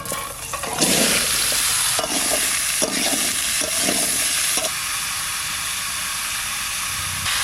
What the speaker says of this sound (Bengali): মাছ ভাজা তেলে সবজিটা দিচ্ছি